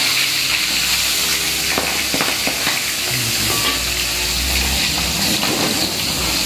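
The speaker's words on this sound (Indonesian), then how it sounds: "di sini goreng lele untuk sarapannya kakak Nisa" Catfish frying in a pan, a steady loud sizzle with crackling spatters and occasional stirring, continuous throughout with no talk.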